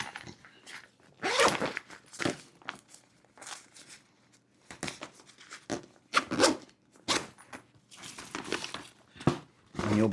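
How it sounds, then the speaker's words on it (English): An AER Gym Tote 2 in X-Pac fabric being zipped closed after its side panel is folded inside, giving several separate close, rasping zipper pulls with short crinkly fabric handling between them, no talking. "And then when you zipper it up"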